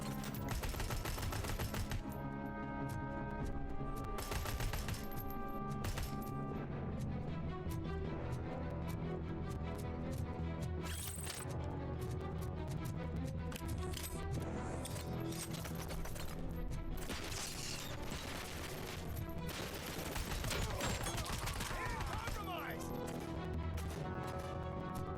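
Rapid bursts of scoped-weapon gunfire in the RoboCop video game, loud and continuous over a dense bed of game music and effects, with repeated shots and impacts throughout.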